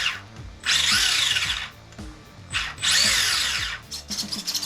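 Brushless motor of a converted toy-grade RC car whirring, two loud high-pitched revving bursts separated by quieter clicking and mechanical rattle, up close with no talk.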